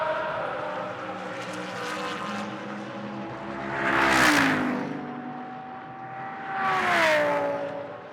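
GT race cars in a Blancpain Sprint Series session at Moscow rush past in two distinct flybys, engine note swelling loud and dropping in pitch as each passes, over a steady background drone.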